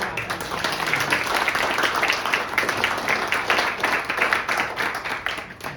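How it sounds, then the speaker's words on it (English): A hall audience applauds a junior cricket team at a community fund awards evening, steady dense clapping that holds at a moderate level throughout. "Let's give them a round of applause."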